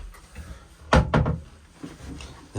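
Toilet compartment door on a 2005 Beneteau Antares 9.8 flybridge motor boat swinging shut with a couple of close wooden thuds and a latch click, followed by quiet cabin room tone.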